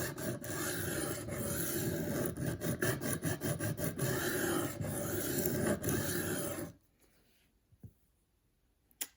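An M4 steel Spyderco Gayle Bradley 2 knife blade is sharpened with repeated rhythmic rasping strokes for several seconds, then the scraping stops, leaving near silence with a couple of faint taps.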